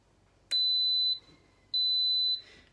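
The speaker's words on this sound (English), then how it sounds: "in a second, that's going to beep and let me know that it started" An Instant Pot on its yogurt program gives two long, loud, steady electronic beeps about a second apiece with a short gap between them, in a quiet kitchen with no talking.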